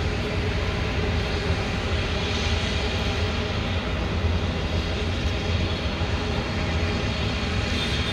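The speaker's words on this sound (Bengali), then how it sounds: "আপনারা দেখতেই পারতেছেন বিমানটি আকাশের দিকে টেক অফ করলো" An Airbus A220 airliner taking off, its jet engines producing a loud, continuous, broadband roar that holds steady throughout.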